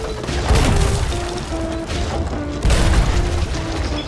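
Cannon fire in the pirate video game Sea of Thieves, two heavy booming blasts a couple of seconds apart over a constant rumbling game background.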